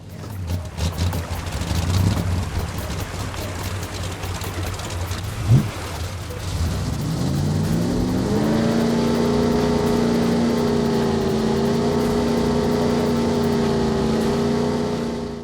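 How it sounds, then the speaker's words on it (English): A speedboat ride in the Goat Simulator video game starts with a rumbling, clattering run-up, then the engine settles into a steady, loud droning hum that holds to the end, with wind-like rushing over it. "By the side of the hotel you can find a speedboat. Hop in the boat to be taken for a spin."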